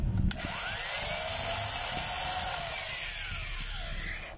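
A weak electric motor whirs steadily for about four seconds with a thin, rising and falling whine over a rough low rumble, heard close with no talking.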